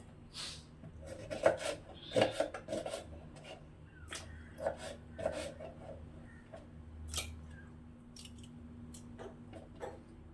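Knife strokes through vegetables for sambar on a cutting board, irregular close scraping chops and taps in uneven bursts, fairly quiet with a low background hum.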